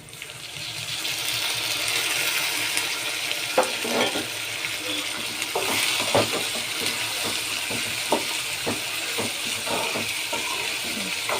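Tomatoes fry in a pan for Belgaum-style maize upma with a steady soft sizzle, broken by scattered clicks and scrapes of stirring, moderately close and without talking.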